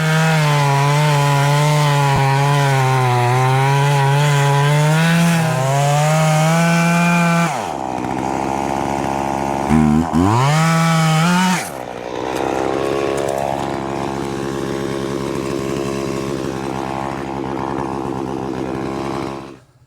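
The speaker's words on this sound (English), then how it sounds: "Now that this young man has a sharpened saw, let's see if it cuts any better." A freshly sharpened chainsaw cuts through wood, its engine loud and close, howling steadily and then dropping in pitch as it bogs under load before revving back up, with no talking.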